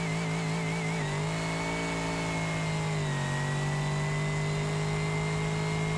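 The American Hopper car in a video game accelerates hard on an airstrip with nitrous armed, its engine droning loud and steady, with the pitch dropping briefly at two gear shifts before climbing again.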